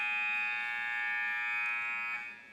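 End-of-period buzzer in an indoor box lacrosse arena, a loud sustained electronic tone holding steady for over two seconds before starting to fade.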